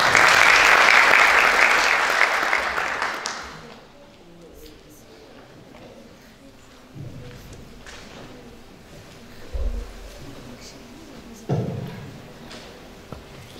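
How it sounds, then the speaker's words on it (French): Applause from a conference audience, a loud dense burst of clapping that dies away after a few seconds, followed by quiet room noise with a few scattered thumps and shuffles. "Mesdames et messieurs, applaudissez fort M."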